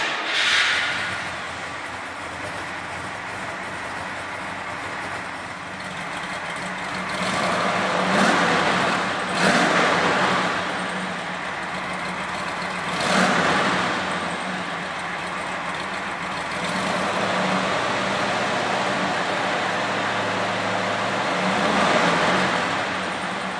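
A 1967 Plymouth Belvedere GTX V8 rumbles deeply and steadily through an H-pipe crossover and two mufflers, swelling in a few loud revving surges, close and continuous with no talking.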